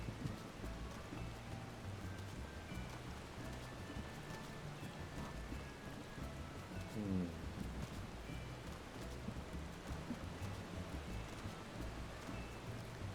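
Steady rain falling in the Final Fantasy XIV video game, heard at the Goblet residential area high up near mountains, with a waterfall and windmills nearby; a soft, continuous hiss of rainfall at low volume.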